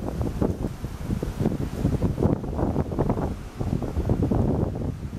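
Strong wind buffeting a microphone on an outdoor trail in Mio, Michigan, a steady loud low rumble with gusty fluctuations and no speech.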